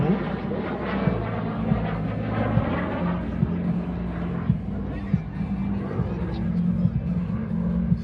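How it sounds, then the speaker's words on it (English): A Lockheed T-33 jet flies aileron rolls at an airshow, a sustained engine roar heard at a distance beneath a loud announcer's voice and crowd babble. "Classic lines of the T-33 and a series of aileron rolls"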